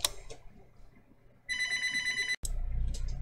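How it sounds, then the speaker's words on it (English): A telephone rings with an incoming call, a bright, loud electronic trill that starts partway through, cuts off briefly, then resumes over a low background rumble. "Hold that thought, I got a phone call."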